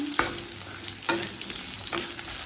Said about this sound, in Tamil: சின்ன வெங்காயத்தை நல்லா பச்சை வாசனை போக வதக்கிக்கலாங்க